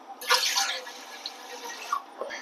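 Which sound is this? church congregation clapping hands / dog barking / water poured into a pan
water poured into a pan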